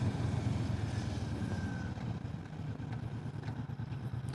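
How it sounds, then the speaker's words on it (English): Steady low engine drone of a 2022 Kawasaki Vulcan S ABS motorcycle while riding, a continuous rumble with wind noise, moderately loud and without talk. "the motorcycle corners nicely, accelerates well, feels stable, feels planted"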